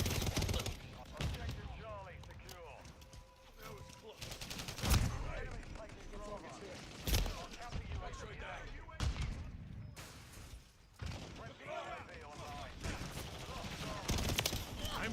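Gunfire in Modern Warfare III multiplayer on the Shipment map, with sharp shots and bursts scattered through a busy match, some close and loud, under game chatter and talk.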